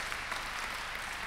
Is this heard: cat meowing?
no